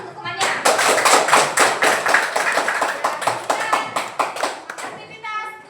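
Classroom applause for a classmate who just answered a math problem, a dense burst of many hands clapping close by that continues steadily for several seconds before thinning out at the end.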